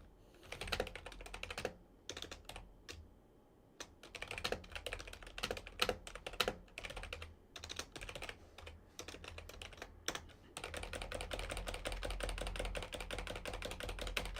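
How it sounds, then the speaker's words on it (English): Rapid clattering keystrokes on a computer keyboard, close and steady, with bursts and short pauses before turning into a continuous run of fast typing. "Can you tell I'm typing a bunch of ha ha ha ha ha ha ha ha?"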